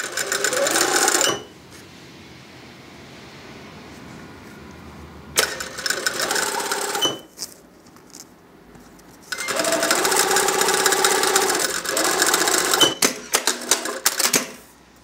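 A sewing machine stitches a seam on a bridal gown, loud close whirring bursts separated by quieter pauses, with a long continuous run toward the end.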